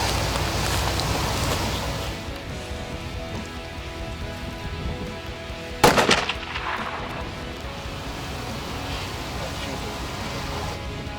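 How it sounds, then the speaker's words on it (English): A single loud rifle shot at a mule deer rings out once mid-clip, sharp and close, over steady outdoor background noise. "when you're ready, you just click it off and take the round"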